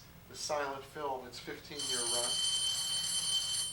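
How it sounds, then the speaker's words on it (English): A telephone bell rings, a bright sustained metallic trill starting midway through, after someone speaks over quiet background. "Whoops, that's the phone."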